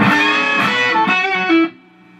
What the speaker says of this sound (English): 3-string bends, which sound like this.